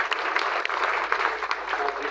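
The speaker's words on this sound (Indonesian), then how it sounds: "Kita berikan tepuk tangan dulu yang dahsyat." Church congregation at an Ascension Day service clapping together in a sustained, fairly loud burst of applause, with a few voices and shouts mixed into the clapping.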